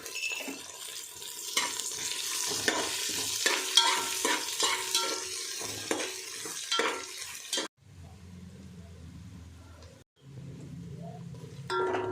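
Whole spices and onion fry and get stirred in a pan for masala veg pulao, a steady near sizzle broken by scraping spoon strokes for about eight seconds, then a quieter low simmer with brief gaps.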